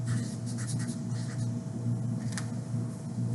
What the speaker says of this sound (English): So I'm going to write schema.